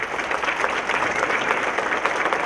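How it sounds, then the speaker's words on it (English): Audience at a business appreciation breakfast claps for a speaker being welcomed, a dense, even burst of applause from a room full of people, fairly loud and continuous. "Applause for Matt."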